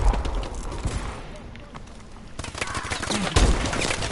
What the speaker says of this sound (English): They shot at me and I couldn't get it.